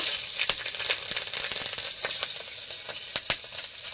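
Black cumin and green chili sizzle in hot oil in a wok over a wood fire, a steady close hiss with a few sharp stirring clicks and crackles.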